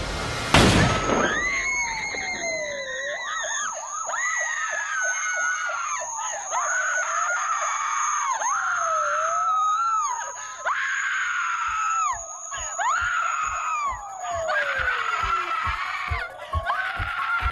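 A loud, sustained scream closes the horror film Halloween, its wavering pitch rising and falling again and again over a steady high tone, with a dense, shrill texture running unbroken to the end.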